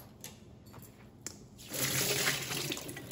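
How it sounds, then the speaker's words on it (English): Water pours off soaked soy curls as they are strained in a kitchen, a few soft drips and clinks followed by a steady splashing rush, with no voices. "I'm gonna strain the water off."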